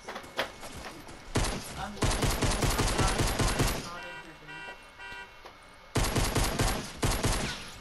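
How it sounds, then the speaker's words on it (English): Rapid automatic gunfire rattles close and loud in a video game, in dense sustained bursts that briefly thin out midway before resuming at full intensity. "Someone's shooting at me."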